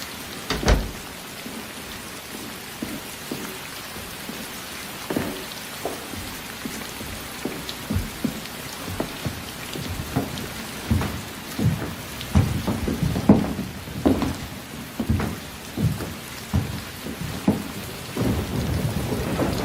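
Steady rain pours down while thunder rumbles and cracks repeatedly, the storm loud and close throughout with no voices.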